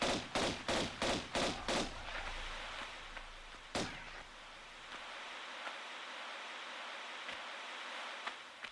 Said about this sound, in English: I just hit you with like a billion bullets.